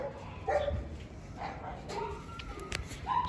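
Dogs at a large breeding kennel with golden retrievers, huskies and Labradors bark and yip in short scattered bursts at moderate distance, with a faint voice now and then.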